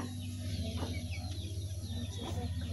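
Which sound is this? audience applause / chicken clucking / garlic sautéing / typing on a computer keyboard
chicken clucking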